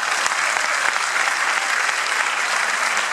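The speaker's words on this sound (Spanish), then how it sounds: "para quien también pide un fuerte aplauso" A festival audience at the Mar del Plata International Film Festival awards ceremony gives strong, sustained applause, dense and loud clapping from a large crowd that holds steady throughout.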